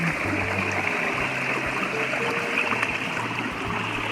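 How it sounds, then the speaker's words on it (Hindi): Small waterfall on a stream beside village rice paddies, pouring in a steady, dense wash of water that stays close and even throughout, with no voices over it. "यहाँ पे एक छोटा सा झरना है।"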